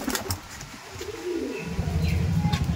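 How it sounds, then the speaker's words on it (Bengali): A Madrasi pigeon coos softly at close range over an outdoor background, with faint chirps and a brief flutter. "এই দেখুন পায়রা"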